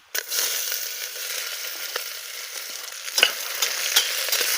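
Sliced onions fry in hot oil with bay leaf, cinnamon and cumin for a mutton gravy, sizzling steadily up close while a spoon stirs and scrapes the pan with intermittent clacks.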